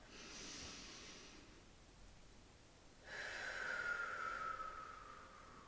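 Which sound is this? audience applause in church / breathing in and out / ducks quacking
breathing in and out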